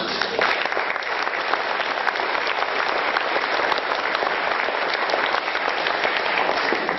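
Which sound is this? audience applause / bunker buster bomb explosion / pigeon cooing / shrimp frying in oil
audience applause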